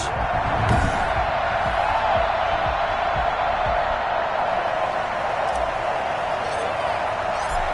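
A steady stadium crowd roar from the video game Madden NFL, Saints versus Buccaneers, rising loud and constant with occasional thumps and cheers throughout.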